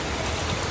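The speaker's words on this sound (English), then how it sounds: "It's about to start raining hard, so till next time." Rain falling outdoors during a trip through a province in the Philippines: a brief, dense, steady hiss of drops with no talk.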